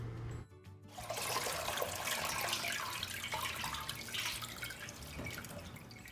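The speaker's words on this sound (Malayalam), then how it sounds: "ഒരു 3-4 പ്രാവശ്യം നമ്മളിത് നന്നായിട്ട് കഴുകിയെടുക്കണം." Drumstick (moringa) leaves being washed in water in a Kerala home kitchen, a steady wash of splashing and running water after a brief pause, fairly faint and without voices.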